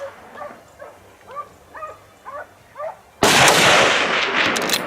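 A gun is fired at wild boars on a mountainous hillside during a hunt, a sudden loud blast with a long rough echoing tail, preceded by a dog barking five times in a steady rhythm.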